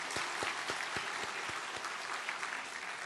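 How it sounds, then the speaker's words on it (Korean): A church congregation claps in thanks during a Sunday service, with a dense, steady applause from many hands heard from a distance at moderate volume. "감사의 박수 한번 드리겠습니다"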